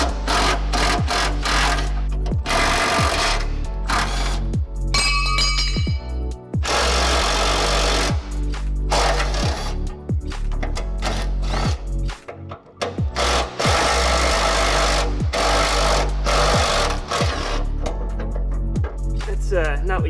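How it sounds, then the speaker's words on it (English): A small cordless impact wrench with a 14 mm socket hammers at the tow hook bolts on a Mazda Miata track car, loud rattling bursts repeating over and over with short pauses, close to the listener, with background music and occasional talk. "just take a 14 mil and an impact to make this super easy"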